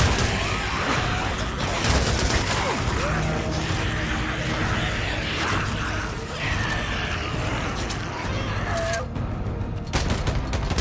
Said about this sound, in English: I'm just gonna take this one down with the machine gun